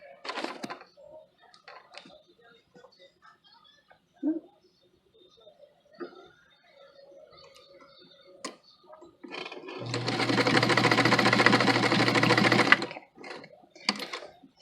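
A sewing machine basts fabric in a burst of steady rapid stitching lasting about three seconds, preceded by quiet handling clicks and taps of cloth and tools.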